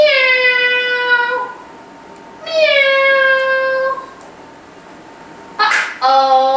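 Three drawn-out meows, apparently a person's voice imitating a cat, come one after another with short pauses between them. Each meow slides downward in pitch.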